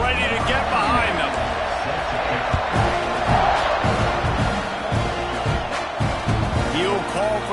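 Football stadium crowd at kickoff, a steady loud roar of cheering and shouting from a large audience under a commentator's voice.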